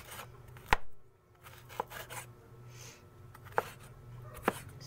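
Peeled ginger sliced with a knife on a cutting board: four sharp, separate knife strikes spaced irregularly over a quiet kitchen background, with no talking.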